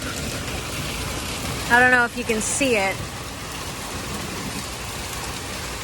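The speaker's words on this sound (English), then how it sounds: "It is hailing and pouring." Heavy rain and hail pour down outdoors in a garden in July, a dense, steady hiss of drops drumming on surfaces throughout, with a person talking briefly over it partway through.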